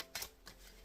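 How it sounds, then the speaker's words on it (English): Tarot cards are shuffled in a few quick riffling bursts, two brisk papery flutters close by and fairly faint, with no talking. "One more shuffle."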